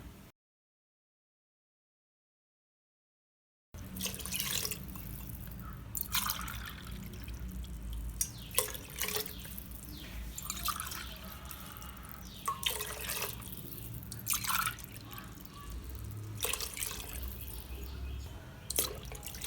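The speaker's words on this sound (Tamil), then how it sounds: "இன்னும் அஞ்சு டம்ளர் தண்ணி ஊற்றணும் இப்போ ஊற்றிடலாம்" Water streams and splashes steadily into a cooking pot for mutton biryani for several seconds after a brief silence, with clinks and spatters over a low background hum.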